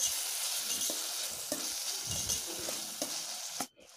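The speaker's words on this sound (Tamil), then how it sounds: "அந்த தக்காளியும் சேர்த்து நல்லா அதோடு சேர்த்து நல்லா வதக்கி விடுங்க" Chopped tomato sautéing with ginger and garlic in a pan for a chapati curry: a steady close sizzle with the scrape of a spoon stirring now and then, no voices.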